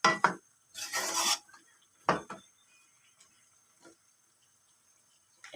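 Chicken pochero is stirred in a cooking pot outdoors on a farm, with a few sharp clanks and scrapes of a spoon against metal separated by quiet pauses.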